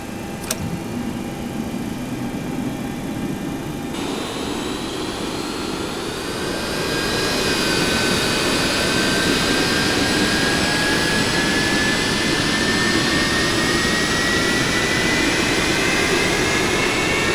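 A Boeing 737-200 jet engine in X-Plane 11 spools up on start, a rising whine climbing in pitch over a broad, steady roar that grows louder after a few seconds.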